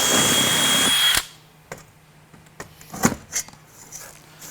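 Power drill grinding out rivets on the pull-out tagalong handle of a Wilson case, a loud close whine for about a second, then quiet with scattered clicks and small clunks of metal bits.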